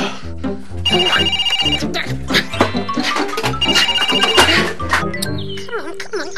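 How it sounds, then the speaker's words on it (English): A telephone rings in a children's TV show, a bright bell-like electronic ring in repeated bursts, loud and close, with music or vocal sounds mixed under it and no clear speech. "Oh, no! Not that phone again. Where is that phone?"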